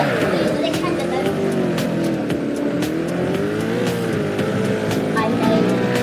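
A Bugatti Chiron drives in the Roblox game Car Crushers 2, its engine a loud, continuous whine that rises and falls in pitch as it accelerates and eases off, with voices talking over it.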